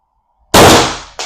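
A single loud, sharp report from an AR Tactical 8g .679 bore air gun, close by, with a brief decaying tail and a second short crack or impact right after.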